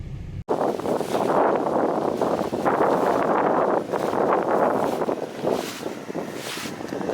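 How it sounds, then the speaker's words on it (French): Light morning wind blows outdoors beside a Renault Scénic set up for winter hiking trips, a steady broadband rush buffeting the microphone with gusts rising and falling, loud and close throughout. "Il y a un petit peu de vent ce matin."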